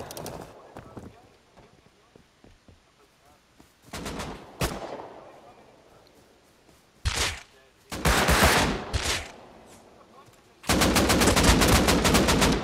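AK rifle fire in a video game: several loud separate bursts and single shots, ending in a long sustained automatic volley, with quieter stretches between them and players talking at times.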